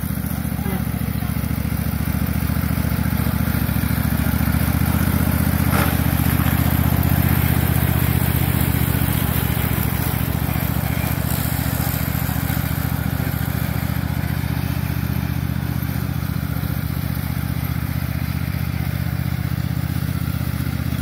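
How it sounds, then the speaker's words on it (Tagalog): A riding lawn mower engine drones loudly and continuously at close range for the whole stretch, with a steady rough rumble and no break in sound. "This is the first time she's rode the riding lawnmower."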